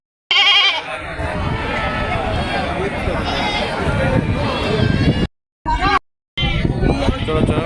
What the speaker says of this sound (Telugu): ఇది ప్రకాశం జిల్లాలోనే మేకల సంత పెద్ద మేకల సంత ఇది